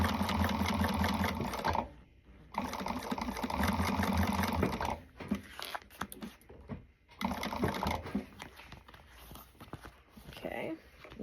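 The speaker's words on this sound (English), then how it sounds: "I'm just top stitching." A sewing machine top stitches a wristlet with polyester blend thread, running in fast rhythmic bursts that stop and restart several times, close and fairly loud.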